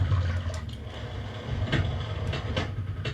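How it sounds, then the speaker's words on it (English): A water sound effect from the Myst video game rushes and churns steadily, with a low rumbling bed, a few brighter splashy bursts and clicking textures, and no voices. "There's water."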